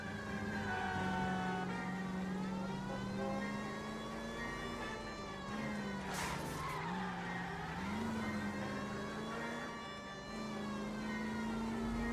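Car chase in L.A. Noire with a steady engine drone, rising and falling siren-like tones, and a burst of tire skidding midway, loud and continuous without talk.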